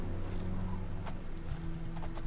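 Horse hooves clip-clop in The Elder Scrolls IV: Oblivion, faint, quick irregular footfalls over a steady low game ambience and music drone, with no talk.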